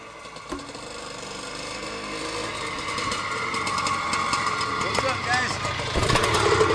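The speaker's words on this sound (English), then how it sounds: "A 1974 Penton 100cc Berkshire whipping by you. Third gear tapped." A 1974 Penton Berkshire 100cc motorcycle passing by in third gear, its small two-stroke engine rising steadily in loudness as it approaches, with someone talking over it.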